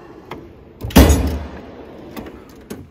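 A metal drawer on an HGV mechanic's screwdriver toolbox slides open with a single loud rolling clunk, framed by lighter knocks and rattles before and after.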